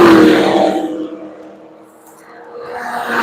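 A Shelby race car sweeps past on the Road Atlanta circuit during a track session, its engine roaring loud and close before fading into the distance, then a second engine note rising again at the end.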